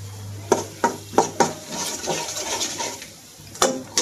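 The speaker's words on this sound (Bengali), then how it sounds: "এই যে ফুটতে দেখছো" Old popcorn kernels pop in a pot for sweet popcorn, a handful of sharp irregular bursts close by, spaced unevenly over a faint background hiss.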